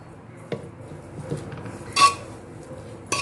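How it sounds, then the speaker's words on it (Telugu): A metal ladle mashing softly cooked rice in a pot for curd rice, heard as a few sparse clinks and knocks against the pot amid quiet, with a brighter scrape near the middle. "దీన్ని కొంచెం గెంటితో అలా స్మాష్ చేసుకోవాలి."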